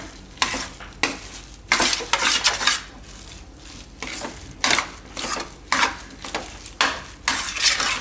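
A spoon stirs a peas and potato mixture in a pan for parathas, with a steady series of scraping, clinking strokes against the metal, close and loud, with no talking.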